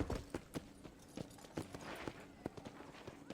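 Horse hooves clopping in the 2010 video game Red Dead Redemption, a steady walking rhythm of clear, close hoofbeats repeating over a few seconds with no talk.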